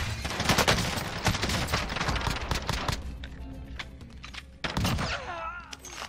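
Pistol fire in Call of Duty Warzone crackles in a rapid, dense run of close shots through the first half, then thins to a few scattered reports with faint game ambience between.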